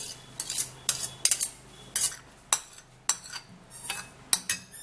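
Metal cutlery tapping and scraping against a bowl while tomato is mashed, a series of sharp clinks and short scrapes at an uneven pace, close and fairly loud, with no talking.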